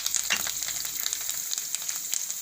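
Bay leaves, curry leaves, chillies and spices crackle in hot oil for palak dal, a quiet close sizzle with rapid fizzing pops and small spits, brief and with no voices.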